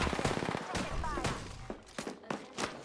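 Gunfire in Apex Legends: rapid bursts of automatic fire, then scattered single shots, close and loud. Voices talk over the shooting.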